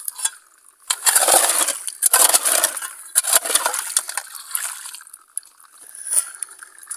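A newly built fountain on a mountainside in the Amanos range, with a weak flow of water trickling and splashing in uneven bursts, close and fairly loud, with no talk.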